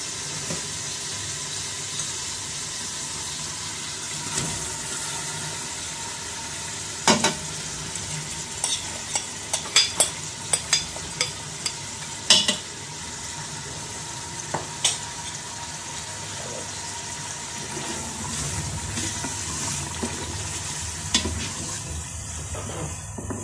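Marinated mutton frying in a pot of onion, ginger and garlic paste, a continuous soft sizzle with occasional sharp scrapes and clinks of a spoon stirring against the pan, close and without talking.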